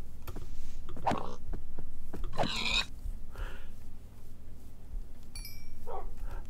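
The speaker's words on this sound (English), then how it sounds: "There's another wolf over here." A wolf in Minecraft gives a few short barks and yips in bursts, moderately close, over a steady low game background.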